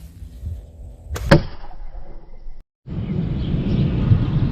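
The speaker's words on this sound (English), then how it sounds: "got a little storm coming in" A thunderstorm rolls in: a sharp crack of thunder followed by loud, steady rumbling and wash of storm noise, close and full, with no talk.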